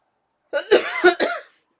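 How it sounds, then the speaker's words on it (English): A short, close cough made of three or four quick, raspy bursts in one fit, then silence. "And I've come up with a cough."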